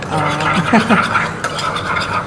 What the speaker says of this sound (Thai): แล้วคนให้เข้ากัน คนให้เข้ากัน